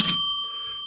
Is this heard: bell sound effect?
yes